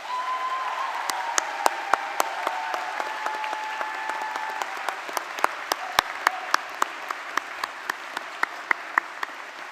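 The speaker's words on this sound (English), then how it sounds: "Let them hear your heartfelt thanks with a huge round of applause." A graduation ceremony audience applauding, a steady wash of clapping over a faint sustained tone, thinning out toward the end to a few isolated, sharper claps.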